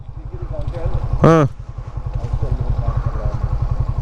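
A motorcycle engine idles steadily and close by at the start of an international bike ride, with a low, even putter running under voices talking throughout and a brief loud horn-like blare partway through.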